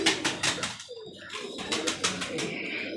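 A Mamdeen pigeon coos from a loft, its soft throaty calls repeating in a steady pulsing rhythm at moderate distance, with a lull midway before the cooing resumes.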